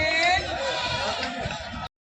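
A goat bleats loudly and close by at a crowded livestock market in Kanpur Dehat, one drawn-out wavering cry over background chatter from people nearby.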